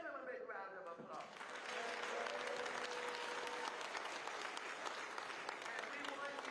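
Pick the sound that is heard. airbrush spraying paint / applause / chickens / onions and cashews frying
applause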